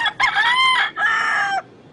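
A rooster crows twice in quick succession, close and loud, in the Philippines, with two bright, wavering calls and a short gap between them and no voices.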